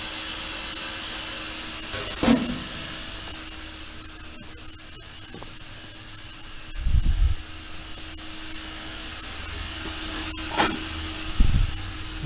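Two ultrasonic cleaners, one from Harbor Freight and one from Amazon, run together with a steady hum and a faint high hiss, broken by several low thumps and brief clicks.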